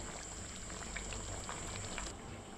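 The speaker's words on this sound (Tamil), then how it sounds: "குழம்பு வந்து நல்லா கொதித்து ஆடப்படந்து வந்துடுச்சு பாருங்கள்" Okra tamarind curry (vendakkai puli kulambu) bubbling hard in a pot, a dense steady burble of popping bubbles with no voices.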